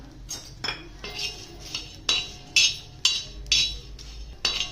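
Whole spices, coriander seeds and green chillies dry-roasted and stirred in a pan, with a regular series of sharp metallic spatula scrapes and clinks, about two per second, over a faint sizzle.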